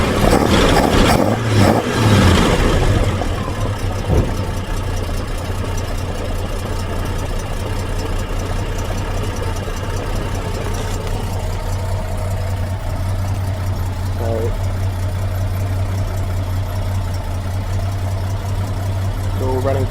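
A Valiant six-cylinder car engine idling after a tune-up, a steady continuous hum and rumble that follows a brief burst of louder activity at the start, with no talk.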